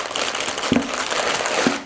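Plastic bags of Lego Technic parts for a Lamborghini Huracan Tecnica set crinkle and rustle steadily for a couple of seconds, close to the microphone, with a couple of sharper crackles.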